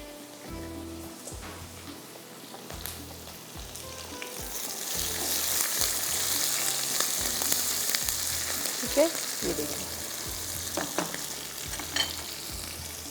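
Food fries in a pan with a steady hissing sizzle that grows fuller partway through, broken by a few sharper pops and some faint rhythmic low thumps in the background, with no talking.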